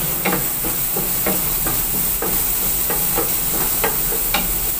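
Shallots and garlic frying in a pan, loud dense sizzling with regular stirring scrapes about every half second, with no voices.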